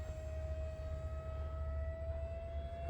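A 3D-printed A-4 Skyhawk model jet with a 50 mm electric ducted fan flies overhead with its flaps down. It gives a steady, fairly loud whine over a low rumble that holds through the whole clip, with no one talking.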